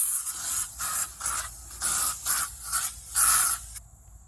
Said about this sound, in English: I gotta spray this. There's bugs coming in.